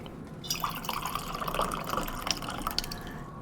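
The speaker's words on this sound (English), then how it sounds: "let me actually drink some tea." Tea being sipped right next to a microphone, close wet slurps and small liquid clicks and drips over a low room hiss, several short bursts in a row.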